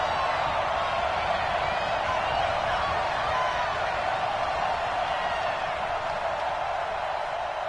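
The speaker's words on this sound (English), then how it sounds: "the crowd getting into it as we come up on a big 3rd down" Stadium crowd at a football game during a big third down in an Atlanta game, a steady, loud roar of massed voices and cheering filling the whole clip without a break.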